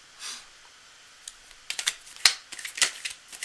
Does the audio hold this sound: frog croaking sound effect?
no